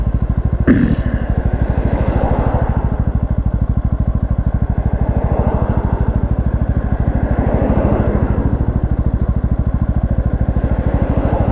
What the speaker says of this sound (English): Little moped with a trailer.